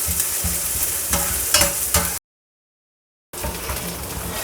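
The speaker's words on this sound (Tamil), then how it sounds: "ஆனியன் நல்லா வதங்கட்டும், கோல்டன் ப்ரௌன் ஆகட்டும்." Onions frying toward golden brown in a pan for Dum Aloo Banarasi, a continuous close sizzle with a few stirring scrapes, cut by about a second of silence before the frying resumes.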